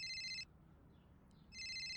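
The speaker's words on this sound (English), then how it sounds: "A phone." A phone rings from beneath a parked car on a street, two bursts of a bright electronic trill separated by a brief pause, close and clear over a low background hum.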